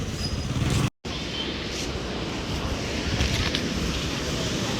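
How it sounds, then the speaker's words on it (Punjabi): Canal water flows and falls steadily beside a gurdwara during a fair, a continuous broadband rush heard close with some wind buffeting and a brief dropout, no clear talk over it. "ਇਧਰੋਂ ਪਾਣੀ ਦੇਖੋ ਕਿੰਨਾ ਸੋਹਣਾ ਗਿਰਦਾ ਇੱਥੋਂ ਕਿੰਨੀ ਸੋਹਣੀ ਆਵਾਜ਼ ਆਉਂਦੀ ਹੈ ਪਾਣੀ ਦੀ"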